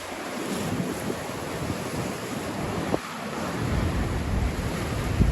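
Storm waves surge against coastal seawalls at Rockport, Massachusetts, during a January blizzard, a loud continuous roar of surf and buffeting wind noise with one sharp crash partway through.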